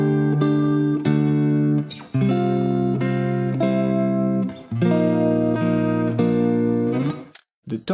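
Sustained distorted chords ring out one after another in a slow progression, each change clearly marked, with tense clashing tones before the chords settle.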